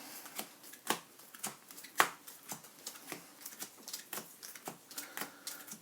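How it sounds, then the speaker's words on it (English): A deck of game cards is shuffled and handled on a table, producing a quiet, close series of crisp riffling and slapping bursts at an irregular rhythm, with no voices. "Shuffle a few more cards into it"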